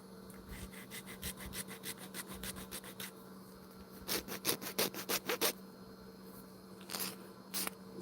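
A flat file rasps across burrs on a part of an ABUS 72/40 padlock, in a run of quick, rhythmic close strokes followed by a few separate bursts of scraping.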